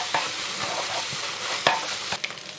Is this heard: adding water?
no